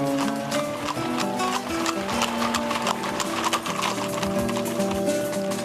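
A troop of horses walking out on the Planalto Serrano highlands near Lages, Santa Catarina, hooves clip-clopping in a steady, dense rhythm, fairly loud and continuous over a busy background, with no talk.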